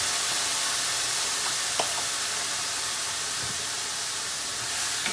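A quarter cup of vegetable stock hits a hot pan of cauliflower being cooked, giving a continuous soft hiss of sizzling and steam with a few faint ticks and pops and no talking.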